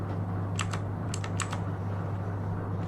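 A few quick key presses on a computer keyboard, Ctrl plus function-key shortcuts tapped in small clusters over a steady low electrical hum, no voices.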